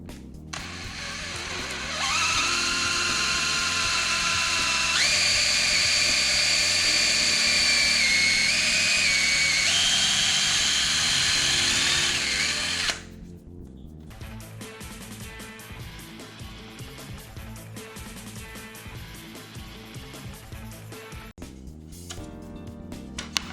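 A power drill whines loudly at high speed as it bores holes in a board, its pitch stepping up and down, then it stops abruptly and only quieter background noise remains.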